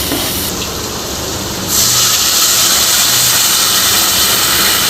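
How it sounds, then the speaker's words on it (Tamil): Water poured into a pan of frying potatoes, a constant loud hiss and sizzle that jumps sharply in volume as the liquid hits the hot pan. "இப்போ வந்து தண்ணி சேர்த்திக்குப்போம்"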